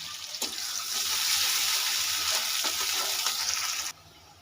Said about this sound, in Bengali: শাক ফোড়ন দেওয়ার জন্য গোটা জিরে দিলাম একটা লঙ্কা ছিঁড়ে দিলাম কিছুটা পেঁয়াজ দিলাম আর একটু রসুন দিলাম